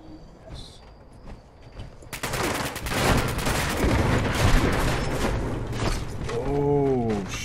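Shotgun fire in the video game Fallout 76 comes in as a sudden loud burst after a quiet start, followed by dense rattling gunfire and mechanical clatter, ending with a warbling tonal effect.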